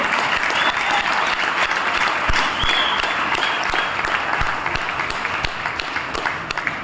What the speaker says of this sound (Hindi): आदरणीय बीसी सर और पीसी सर, एक बार जोरदार तालियां इन दोनों के लिए।